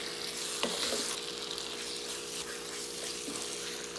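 Chicken pieces being stirred and mixed with masala in a pan for a simple Indian chicken curry, giving a steady broadband sizzle with a few scraping stir strokes, close and continuous.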